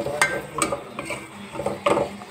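Chopped onion cooking in a pan for vegetable macaroni, with scattered scrapes and clinks of a spoon stirring against the pan over a faint sizzle and no voices.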